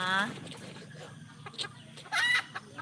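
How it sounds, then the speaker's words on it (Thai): Chickens perched in a tree cluck and squawk nearby in short bursts, with a crowing-like call at the start and someone talking softly underneath. "ไก่อยู่บนต้นไม้นะคะ"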